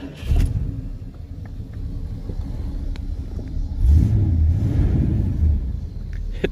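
A 1978 Mercury Grand Marquis V8 with dual glass-pack exhausts starts up and idles with a deep, steady low rumble, swelling briefly as it is revved, heard up close with no talk.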